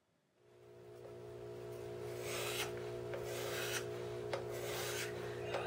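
A flat wood scraper drawn repeatedly across a wooden surface, lifting curls, gives a steady rasping rub with a few sharper strokes over a constant tonal hum in the background, with no talking.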